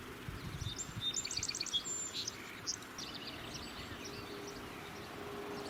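A male kingfisher chatters in quick, faint, high-pitched bursts along a shoreline, heard at a distance over a low background hum.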